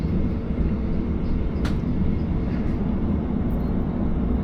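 A passenger train pulls out of Schofield Station with a steady, loud rumble of wheels and engine, heard from on board, and a faint brief squeal rises above it.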